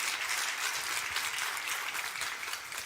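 A congregation at a church celebration service claps together in a brief, even wash of applause, fairly quiet and steady throughout.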